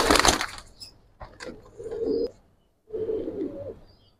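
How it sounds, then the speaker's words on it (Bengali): Silver pigeons coo in two rounds of low, throaty warbling, close by, after a loud burst of clatter at the start, with brief quiet gaps between the calls. "এটা সিলভার কবুতর"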